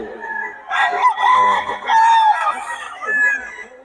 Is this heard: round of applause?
no